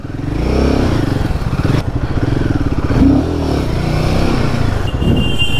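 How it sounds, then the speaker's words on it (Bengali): Dense road traffic heard from aboard a Himalayan 450 motorcycle near a railway crossing, a continuous loud rumble of engines and revving vehicles with clattering, steady throughout. "বহুত চাপ ভাই গাড়ির"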